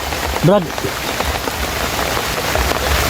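Heavy rain patters steadily on a surface, forming a constant hiss, with a brief voice cutting in near the start.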